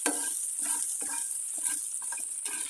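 Cauliflower 65 pieces stirred and tossed in a frying pan, with a steady high hiss of sizzling oil and repeated scraping strokes of the spatula every half second or so, close and clear, with no talking.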